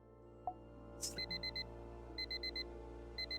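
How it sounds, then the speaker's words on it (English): A video game alarm clock chimes in short repeated beeping bursts, three groups of quick electronic tones after a brief click, fairly quiet against a steady low background hum. "I wake up with my alarm and sigh contentedly."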